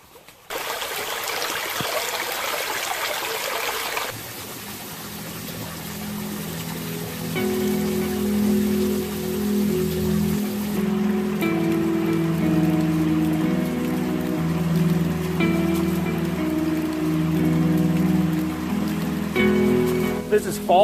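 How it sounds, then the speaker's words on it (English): Fall Branch Falls pours as a continuous rushing hiss of water, loud at first and then softer in the background as a voice talks over it for most of the stretch. "This is Fall Branch Falls, a really nice waterfall that I didn't even know was here."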